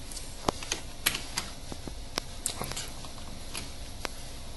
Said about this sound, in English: you have to click Ctrl plus F1 simultaneously to open this function